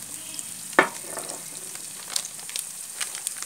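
Turmeric and chilli powder frying in oil on low flame for a sweet lemon pickle, a quiet steady sizzle with one sharp knock early and a few light stirring taps, close and unaccompanied by talk.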